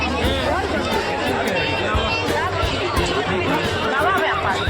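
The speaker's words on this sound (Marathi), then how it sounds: "गर्दी तर खूप आहे" Dense crowd hubbub at a village temple fair (jatra) for the goddess Katradevi in Sagwe, Rajapur, Konkan: overlapping voices, footsteps and movement forming a steady, loud babble all around.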